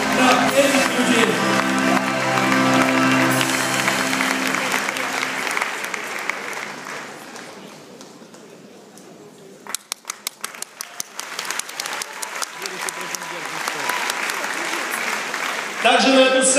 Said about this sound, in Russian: Давайте не скупиться на овации, на этих людей